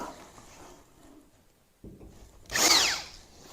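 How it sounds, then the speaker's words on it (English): Quiet rustling gives way to a short, rising whine of a power drill biting into material, loud and close for about a second. "now I'm going to drill it out"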